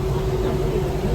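Inside a moving Vande Bharat train, a loud, constant rumble carries a steady tonal hum and no speech.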